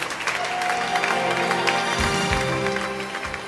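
Wedding guests applaud the parents of the bride and groom, a continuous crowd clapping throughout, fairly loud and near, with some low thumps mixed in.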